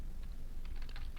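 Quick run of keystrokes on a computer keyboard while HTML code is entered in a web development tutorial, a couple of isolated taps followed by a denser burst of clicks, close and fairly quiet.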